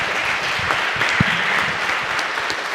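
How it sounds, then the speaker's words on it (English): Audience applause following a talk about sneaker culture at the Library of Congress, a steady dense patter of many hands clapping at moderate loudness, with a brief murmur of voices underneath. "Round of applause"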